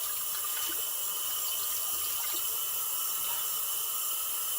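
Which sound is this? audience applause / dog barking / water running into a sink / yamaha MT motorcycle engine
water running into a sink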